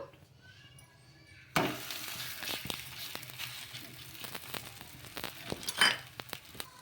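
Rumali paratha frying in oil on a pan gives a sudden loud sizzle that settles into steady crackling, broken by light clinks and scrapes of a utensil, with no voices.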